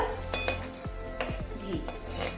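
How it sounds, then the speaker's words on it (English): Spices fry in hot ghee in a pan for a Kolkata-style chicken rezala, with a steady low sizzle under light stirring clinks and scrapes of a utensil against the metal. "fry the spices in the ghee so that the aroma gets into the"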